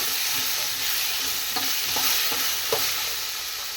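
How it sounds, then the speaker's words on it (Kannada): Ginger, garlic and masala fry in a pan with a steady, bright sizzle, while a spoon scrapes and stirs through it in several short strokes, close up and without speech. "ಇವಾಗ ಇದನ್ನೆಲ್ಲ ಟೋಟಲಾಗಿ ಫ್ರೈ ಮಾಡ್ಕೊಳ್ಳೋಣ"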